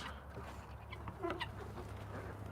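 Young village chickens and a Bresse rooster cluck softly in a farmyard pen, faint and somewhat distant over a steady low background hum, with one brief clearer cluck midway.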